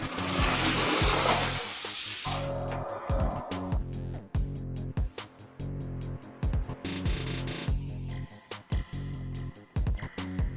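Hot Wheels toy cars racing down a drag track, a rolling whir and rattle that swells then gives way to clacks and rattles as the cars finish, with a steady low hum underneath.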